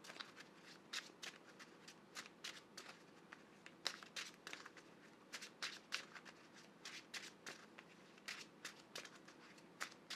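Playing cards for the Marvel Champions card game are shuffled in repeated quick riffling bursts, faint and close, with brief pauses between rounds and no talking.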